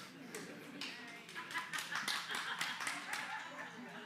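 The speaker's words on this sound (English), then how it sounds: "Applause from everyone." Scattered applause from a church congregation at the close of a sermon, moderate and uneven, with murmuring voices and light laughter mixed in.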